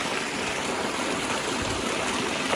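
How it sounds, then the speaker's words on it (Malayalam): Steady rushing of stream water flowing continuously, close by and fairly loud, with no voices. "ചോലത്തെ വെള്ളമാണ് ഈ പോകുന്നത്"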